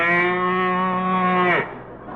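Cow moo sound effect from a 1945 Bob Hope radio comedy broadcast from USC, a single sustained, loud, nasal low moo lasting about a second and a half before cutting off, heard alone without talk.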